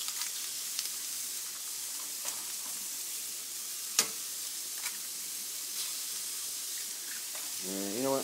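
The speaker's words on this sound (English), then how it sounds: "So just crack a couple eggs on the top here." Eggs cracked onto a hot iron skillet for a four-egg omelet sizzle with a steady, moderate frying hiss, broken by a few sharp clicks and taps and a brief burst of stirring or scraping near the end.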